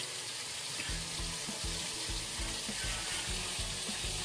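A katla fish head rubbed with salt and turmeric fries in hot oil, giving a steady close hiss of sizzling, while a run of low, regular knocks sounds alongside.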